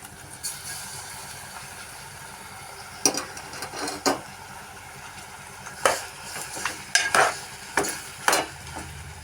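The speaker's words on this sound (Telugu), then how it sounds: "ఇప్పుడు ఈ మటన్ ఇందులో వేసేద్దాం." Mutton pieces added to fried onions in a pan for mutton curry, a low steady sizzle broken by several sharp scraping stirs and clatters of a utensil against the pan, close up.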